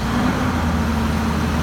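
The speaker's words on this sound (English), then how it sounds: "hear that big engine roaring? I can barely even talk over it." A 2015 Infiniti QX80 engine running just after a remote start, a loud, steady low rumble and hum that holds unbroken throughout, with no talking.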